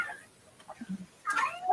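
A small kitten mews a few times in a room, short soft cries followed by a louder, higher plaintive call at the end, with quiet gaps between.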